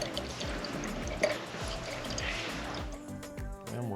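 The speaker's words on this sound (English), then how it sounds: "So now we're gonna pour in 4 ounces, or up to this line, of rinseless wash." Rinseless car wash solution is poured into a foam bottle, a continuous liquid trickle and gurgle up close, with faint handling noises toward the end.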